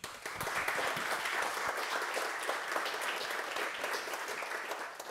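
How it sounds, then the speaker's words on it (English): Audience applause for keynote speaker Peter Stuge at the BornHack 2018 hacker camp, a steady full round of clapping from a crowd lasting throughout, moderately loud and evenly sustained. "Let's give a round of applause for Peter"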